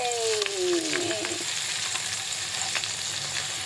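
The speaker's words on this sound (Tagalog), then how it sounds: "Lulutuin muna natin itong itlog" An egg fries in a pan for breakfast, giving a steady close sizzle with a crackling hiss that stays even throughout, a thin whining tone fading in the first second.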